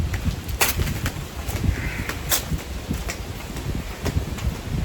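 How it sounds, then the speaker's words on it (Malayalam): Gusty wind buffets and rushes outdoors behind a house on a hilltop, with leaves rustling and a couple of brief sharp bird calls cutting through. "നന്നായിട്ട് കാറ്റ് വീശുന്ന കേൾക്കുന്നുണ്ടോ?"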